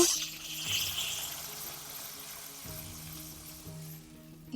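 Water poured into a pan of fried spiced masala of turmeric and chilli powder, a steady soft pouring and sizzling wash under faint background hum.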